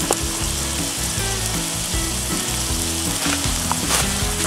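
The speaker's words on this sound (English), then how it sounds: "let the sides sear for a couple minutes." Steaks seasoned with Montreal steak spice searing on a Blackstone griddle at a campsite, a loud, continuous close sizzle with occasional crackles and no speech.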